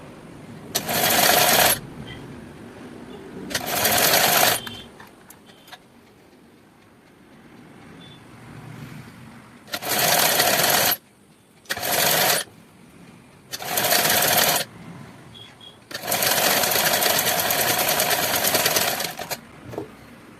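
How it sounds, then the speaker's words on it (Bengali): Sewing machine stitching the reverse side of a blouse in several loud bursts of running stitches, separated by quiet pauses, with the longest run near the end. "ব্লাউজের উল্টো পিঠে অস্ত্রটা বসিয়ে প্রথমে সেলাই করে নিচ্ছি"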